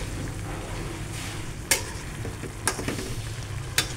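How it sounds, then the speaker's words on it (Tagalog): Bottle gourd (upo) sautéing with saba sardines in a pan, a steady close sizzle with a few sharp stirring clinks and scrapes, no voices. "Ito ang ating ginisang upo"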